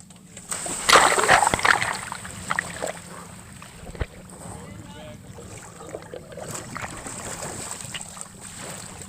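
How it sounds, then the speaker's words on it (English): A person jumps into water close to the shore, making a loud splashing burst early on that settles into softer sloshing and lapping against steady wind noise outdoors. "I am going to jump in the water"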